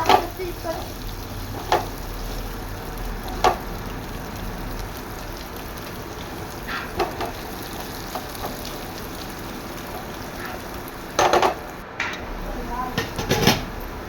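Sliced bitter gourd fries in a pan with a low, steady sizzle, broken by occasional scrapes and clatters of a spoon and a louder burst of stirring near the end.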